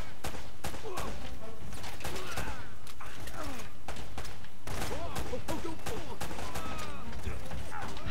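Gunfire in Uncharted around a speedboat sequence, with dense sharp shots and mechanical clatter coming in bursts over a loud action mix, and someone talking at times.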